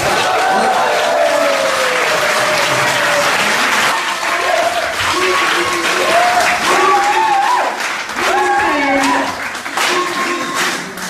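Sustained applause from a crowd at an outdoor sports day tug-of-war awards ceremony in a riverside park, loud and continuous, with cheering voices and shouts rising over the clapping.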